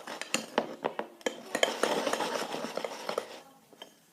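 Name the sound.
stirring butter slime in a bowl with a spoon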